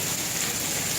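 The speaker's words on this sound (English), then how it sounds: "They all want to film the rain." Steady dense rain mixed with hail falls hard outdoors near a parking lot, a loud, even hiss of patter filling the short moment without any voices.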